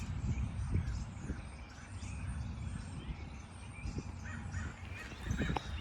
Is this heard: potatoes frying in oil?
no